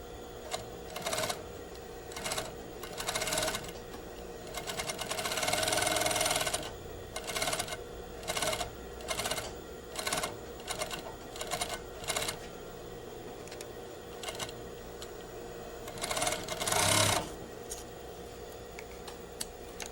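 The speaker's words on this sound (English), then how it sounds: "We stitch down to the base of the zipper with the needle down, swing around and across to the other side." A home sewing machine stitching a zipper in place runs in short, rhythmic bursts with pauses between, including one longer steady run. The whirring is clear and close, with no talking.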